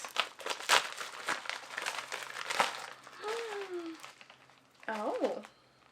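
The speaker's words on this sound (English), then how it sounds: "I was wondering because it was crinkling." Plastic packaging of an Ipsy Glam Bag crinkles up close in bursts as it is opened, with faint talk and rustling between.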